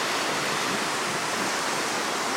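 A rugged river rushes over rocks in Mostar, Bosnia and Herzegovina, making a loud, steady, broadband roar of whitewater that fills the whole clip with no voices.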